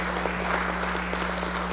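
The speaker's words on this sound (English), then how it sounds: "Let's give our panelists a round of applause and thank them for being here." An audience applauds panelists at a community mental health event, a brief, even patter of many hands clapping over a steady electrical hum.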